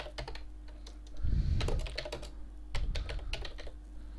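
Close-up typing on a computer keyboard: quick, irregular key clicks and taps in bursts, with a faint low hum underneath and no voices.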